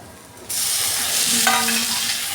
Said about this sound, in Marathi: खोबरं लाल होईपर्यंत परतवायचं